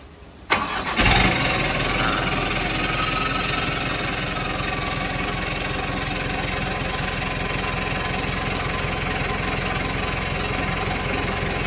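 A Mitsubishi Canter Euro 4 truck with a flexible exhaust pipe and aftermarket muffler cranks briefly and catches, then settles into a steady, loud diesel idle with a constant low rumble and rattle that continues to the end.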